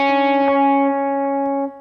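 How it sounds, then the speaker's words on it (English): Electric guitar through an echo pedal with the feedback turned down: one sustained distorted note rings steadily with only faint, sparse repeats trailing behind it, then cuts off near the end; no talking. "it's a very pronounced sound, and so the echo is part of that tone"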